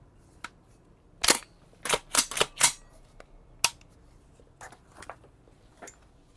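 An EMG Noveske gas blowback airsoft rifle fires in short full-auto bursts, sharp close cracks in quick clusters with a few lighter mechanical clicks between, no voices.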